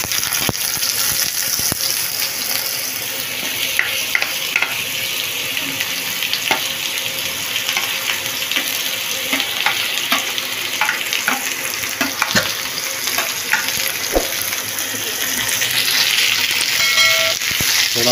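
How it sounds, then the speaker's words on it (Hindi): Potatoes frying in hot oil for a simple aloo fry, a dense continuous sizzle and crackle that stays loud and steady throughout, with occasional sharper pops and a brief stirring or scraping near the end. "ऑयल गर्म हो गया, अब इसमें आलू डालेंगे,"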